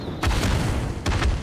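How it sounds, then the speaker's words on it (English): Cluster grenades from Divinity Original Sin 2 go off in two loud, booming bursts about a second apart, each breaking into quick rumbling pops, with no voices. "Cluster grenades."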